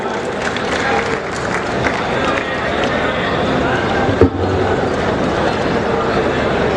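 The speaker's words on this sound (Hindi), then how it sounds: "आप सभी की जोरदार तालियों की गड़गड़ाहट के साथ।" Loud, sustained applause and crowd noise fill the hall as a state industry and commerce minister is welcomed onto the stage at a Rajasthan foundation-stone ceremony for an agricultural produce trade building, with no break in the noise.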